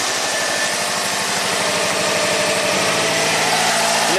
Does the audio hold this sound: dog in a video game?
no